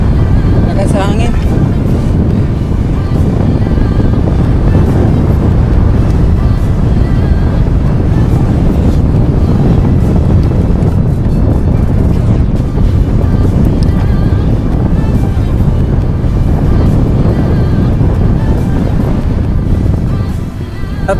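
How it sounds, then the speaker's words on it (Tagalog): Strong wind roars continuously across the microphone during road cycling on a Trek Madone SL 6 Gen 8 in a challenging stretch, loud and unbroken throughout with no clear voices. "Lakas sa hangin."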